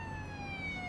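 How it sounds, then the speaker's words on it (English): An ambulance siren wails steadily and loudly in the Police Simulator: Patrol Officers video game, its tone sliding slowly downward throughout, with low traffic rumble beneath and no talk. "Comes the ambulance."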